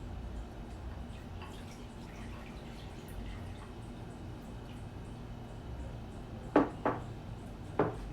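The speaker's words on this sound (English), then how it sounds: "First, I'm gonna pour the water here." Water is poured for microwave coffee, with a faint background hiss followed by a few distinct splashes and drips near the end, quiet and close.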